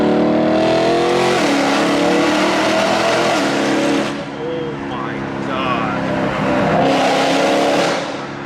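A BMW E9X M3 V8 revving hard through its exhaust while driving, rising and falling engine pitch with loud roaring pulls, a dip as it lets off, then another surge, heard close up.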